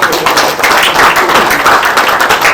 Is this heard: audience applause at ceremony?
yes